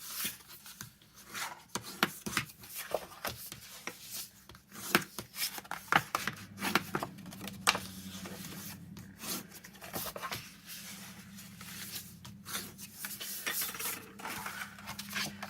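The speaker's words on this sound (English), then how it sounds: "fold and burnish all the score lines except those little ones that we made" Paper score lines being folded and creased by hand with a bone folder for a Stampin' Up! box, giving close scratchy rubbing strokes and soft crinkles in irregular bursts.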